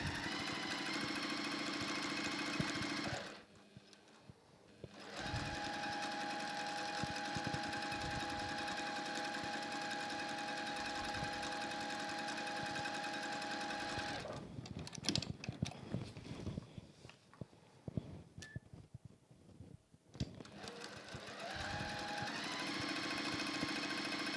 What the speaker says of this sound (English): we're going to sew 1/4 inch either side of the line